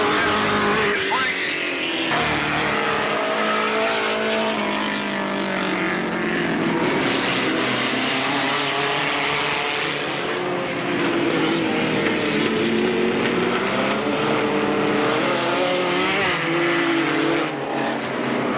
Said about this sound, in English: Cars spreading out rather well all the way around the track at the moment.